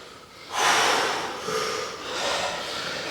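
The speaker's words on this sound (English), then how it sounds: "Listen to your breathing." Heavy breathing during a TRX suspension-trainer exercise at home: a loud, breathy exhale starts about half a second in, followed by two softer breaths, with no talking over it.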